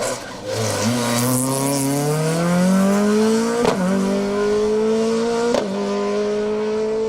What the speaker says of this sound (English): another of these sequential gearbox Escort Mark IIs, cracking through those